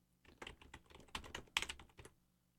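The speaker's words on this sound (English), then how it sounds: "If I actually typed something here" Fingers tap on a computer keyboard while typing into an Excel spreadsheet, a quiet, close run of quick, uneven keystrokes with a brief pause before a final few presses.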